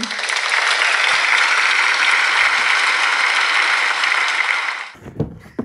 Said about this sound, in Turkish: önce bir alkışı hak ettiniz. Alkışlar gelsin